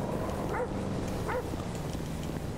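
A dog in Grand Theft Auto V barks twice, short sharp woofs about a second apart, fairly quiet over a low steady background rumble with no talk.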